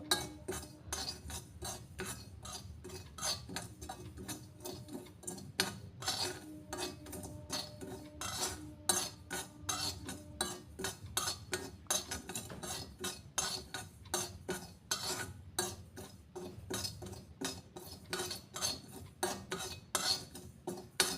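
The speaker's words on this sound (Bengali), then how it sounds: "চা পাতাটা গ্যাসটা কিন্তু লোই করা আছে, বেশিক্ষণ ভাজবো না, সামান্য একটু ভাজবো।" Repeated dry scraping and clinking of a spoon against a pan as tea leaves dry-roast over low heat, in a brisk, uneven rhythm, fairly quiet and close.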